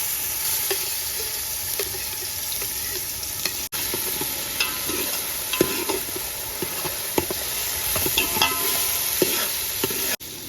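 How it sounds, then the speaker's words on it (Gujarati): Onion and green chillies fry in oil in a pan, a loud, steady sizzle close by with frequent scraping and stirring clicks throughout, no speech. "તેલ હવે નાખશું આપણે ડુંગળી ને લીલા મરચા"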